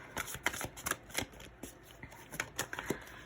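Tarot cards being shuffled by hand during a card reading make a series of crisp, riffling flicks and soft slaps in an uneven rhythm, close and fairly quiet.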